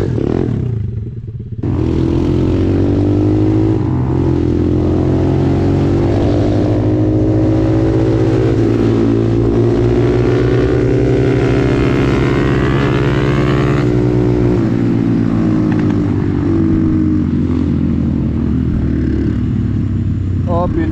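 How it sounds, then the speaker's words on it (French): A cheap secondhand pit bike engine runs at full throttle for a long, steady stretch, loud and close, with a rough droning roar and slight rises and falls in pitch. "j'ai mis plein gaz"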